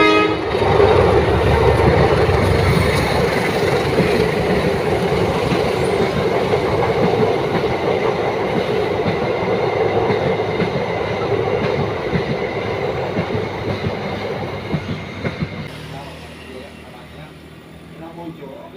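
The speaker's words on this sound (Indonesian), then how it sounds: "kita saksikan kedatangan kereta api yang pertama, yaitu kereta api Batu Raden Express." The Batu Raden Express rumbles past on the curve by the Cirahong bridge, loud and close, with clattering wheels and horn blasts fading toward the end while people talk over it.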